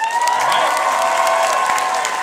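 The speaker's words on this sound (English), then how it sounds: "I want you guys first to put up a big round of applause for Mr. Justin Cook." At an Anime Expo Dragon Ball Z panel, a loud convention crowd applauds and cheers, with dense clapping and whoops that stay steady for a couple of seconds.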